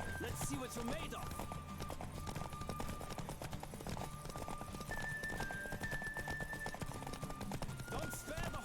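Steady hoofbeats of a galloping horse in The Witcher 3 video game with a musical backdrop, continuous and fairly loud, with a brief whinny near the start.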